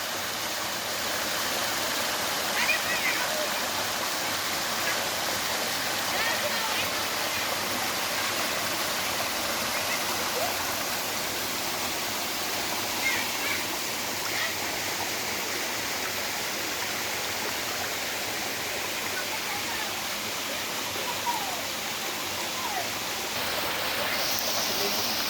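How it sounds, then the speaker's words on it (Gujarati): Waterfall near the Jatashankar temple in the Girnar hills, a broad constant roar of falling water that stays loud and steady throughout, close by with no clear talk. "આ જટાશંકર મંદિર પાસેનો ધોધ છે."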